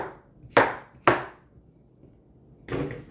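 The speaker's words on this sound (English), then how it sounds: "get the tips cut off and get them chopped" Knife chopping cucumbers on a cutting board: three sharp, separate chops, two close together and a third after a pause, near and fairly loud in a quiet room.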